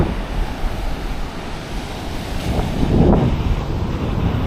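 Surf rolls onto a beach near Hoi An, a steady wash of breaking waves with a fuller surge near the end, close by and mixed with wind rumble on the microphone.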